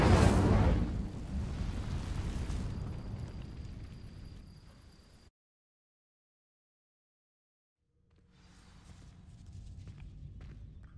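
A fire spell cast in the video game Hogwarts Legacy in a dark herbology corridor: a loud roaring whoosh of flame that fades into silence, followed by a quieter crackling rumble.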